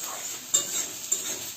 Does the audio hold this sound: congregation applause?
no